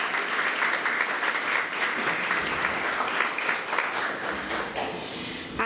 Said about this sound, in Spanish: Un aplauso para los miembros de la mesa de honor.